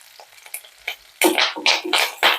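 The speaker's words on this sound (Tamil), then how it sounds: "இது ஒரு ரெண்டு நிமிஷம் வதக்கிட்டு பார்க்கலாம்" Shallots, ginger and garlic sizzle in a pan with a burst of sharp frying crackles and scraping stirs, quiet at first then louder and rhythmic in the second half.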